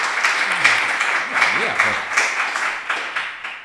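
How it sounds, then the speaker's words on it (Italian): Studio audience clapping on an Italian talk show as a guest is welcomed, a dense, steady burst of applause close to the microphones, with a few voices murmuring underneath. "Momento applauso."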